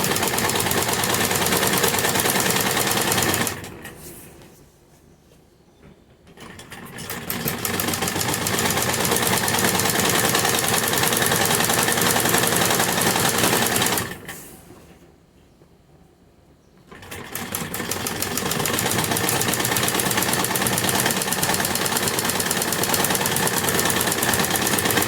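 A sewing machine runs in a loud, steady, continuous whir as it stitches through foam while sewing a salwar, stopping twice for a few seconds before starting up again.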